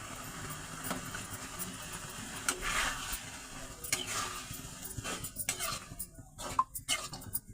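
Four beaten eggs whisked in a bowl, giving light irregular clinks and scraping taps of utensil against the dish, quiet and close, growing sharper toward the end.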